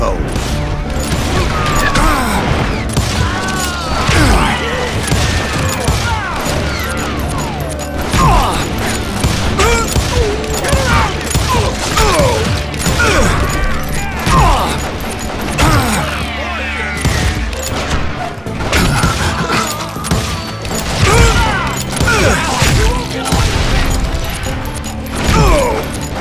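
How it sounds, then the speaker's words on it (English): Video game gunfire in a continuous fusillade, with many overlapping shots and booms mixed with clanking mechanisms and creaks, dense and loud for the whole stretch. "Sounds like Garrett hired a whole regiment to fire guns."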